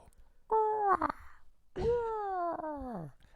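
A voice imitates a crow with two drawn-out, nasal caws, the second longer and sliding downward.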